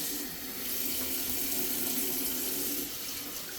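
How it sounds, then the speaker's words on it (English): A bathroom water tap runs in a house, giving a steady, even rush of water that holds at the same level throughout, with no voices. "The water is running."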